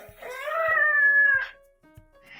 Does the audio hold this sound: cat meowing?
yes